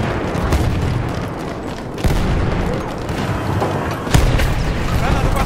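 Grenade explosions and battle noise from Battlefield 1 on the Tsaritsyn map, a dense roar with a couple of heavy booms standing out, loud and continuous.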